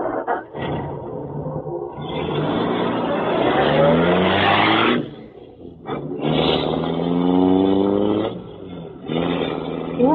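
The Green Hornet's Black Beauty car roars past in an old-time radio drama effect, two long loud engine swells that rise in pitch and fade, separated by a brief dip, with no speech.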